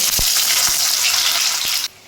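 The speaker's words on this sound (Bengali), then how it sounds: "আমি আলুটা ভেজে তুলে নেব" Potatoes crackle and hiss in hot oil, a loud close sizzle with a few soft knocks, cutting off abruptly near the end.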